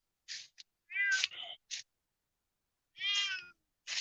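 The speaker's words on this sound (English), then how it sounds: "Oh, got a stray cat out here." A stray cat meows outdoors on a chilly Halloween night, giving a few short, close calls in two clusters separated by a silent pause.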